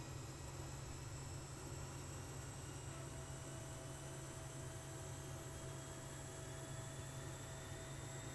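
Microsoft Flight Simulator 2024 aircraft taxiing, a steady engine drone with a strong low hum and faint high whine, continuous and unchanging throughout with no voices.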